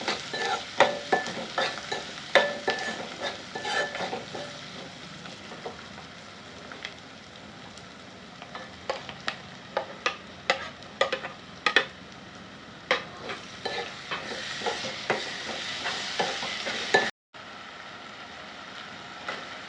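Turmeric and chopped tomatoes fry in hot oil in a pan for a dry fish curry, with an even sizzle under repeated spoon clanks and scrapes, then a brief cut near the end before the sizzling resumes.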